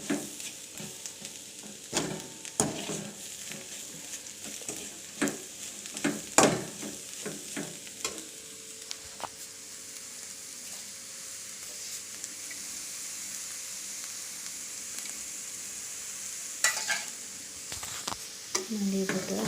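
Egg and cabbage podimas fries on a stove flame, with a steady sizzle and bursts of stirring scrapes throughout, fairly close and at a moderate level.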